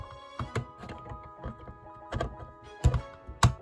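Plastic parts of a Kingdom Rodimus Prime Transformers toy gun clicking into a notch, heard as a series of small close thunks and clicks at uneven intervals, the last two slightly louder.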